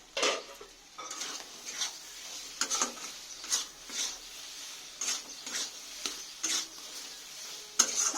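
Potatoes sautéing in a pan, with rhythmic scraping stirs of a spatula against the metal and a light sizzle, close and moderately loud, about a dozen strokes with no talking.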